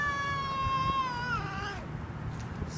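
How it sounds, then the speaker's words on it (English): A young cat gives a single long, wavering meow that bends downward at the end, heard fairly close over steady background hiss and outdoor noise. "This cat loves me."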